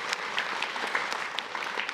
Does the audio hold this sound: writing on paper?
no